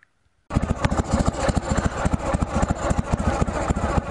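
After a moment of quiet, a motorcycle engine fires up on electric start with the choke on and settles into a steady, loud, rhythmic idle that chugs on close by.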